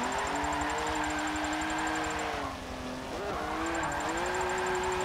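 Nissan drift car engine droning at steady high revs through an e-brake pull, a brief dip in pitch midway before it climbs again, loud and close with tire noise underneath.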